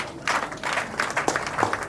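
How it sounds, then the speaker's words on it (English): Applause from the guests at a Nigerian wedding reception during a shoe game, a lively burst of many hands clapping that starts after a brief pause and keeps going steadily to the end. "a hand of applause for the woman"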